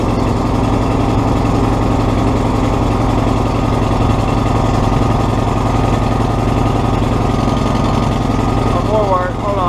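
A ZTR zero-turn mower with a freshly swapped engine runs steadily and loudly at close range, a constant rough drone that barely changes throughout.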